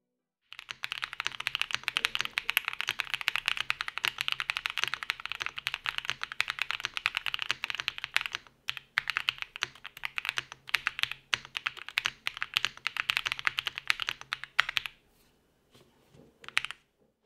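Steady, close-up typing on a Dry Studio Black Diamond 75 mechanical keyboard, a dense run of crisp clicky keystrokes that pauses briefly, resumes, then trails off into a few final taps.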